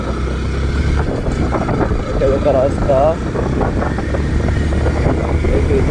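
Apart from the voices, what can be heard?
motorbike riding on a road at night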